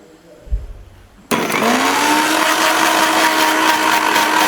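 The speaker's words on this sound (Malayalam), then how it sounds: "എന്റെ മിക്സി" A kitchen mixer grinder switches on abruptly after a quiet moment with a soft knock, then runs at a loud steady whine with a sustained motor hum.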